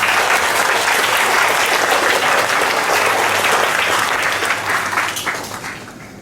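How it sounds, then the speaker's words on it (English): A school assembly hall full of students claps in sustained, dense applause that holds steady, then tapers off over the last couple of seconds. "give yourself a big round of applause"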